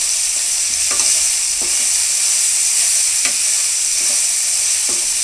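Vangi bath gojju frying in a pan, with jaggery and asafoetida just added, gives a continuous bright sizzle while a spoon stirs it, leaving a few soft scraping strokes against the pan.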